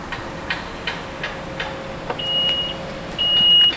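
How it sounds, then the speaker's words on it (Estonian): Two electronic beeps sound near a van or bus, each a steady tone after a run of soft ticking clicks, the second beep a little longer and louder. "Piiks."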